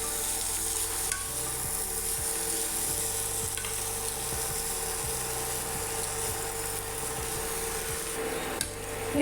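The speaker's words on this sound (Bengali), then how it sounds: "দিয়ে দিলাম একটু লঙ্কার গুঁড়ো। এবারে এটাকে মিশিয়ে নিলাম।" Mixed vegetable curry with chili powder being stirred in a pan, steady sizzling and frying with a rhythmic scrape of a spoon against the pan, close and continuous, with music playing underneath and no talk.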